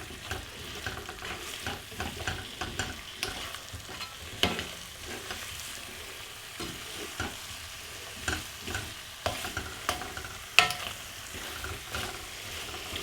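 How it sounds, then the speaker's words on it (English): Potatoes sizzle steadily in a pan while a utensil scrapes and stirs them at intervals, close and fairly quiet. "So then now they're like frying up a little bit."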